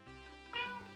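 A person imitates a cat's meow with a single short, soft vocal mew rising briefly midway through, heard alone at low volume.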